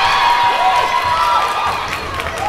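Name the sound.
crowd cheering at girls basketball game after layup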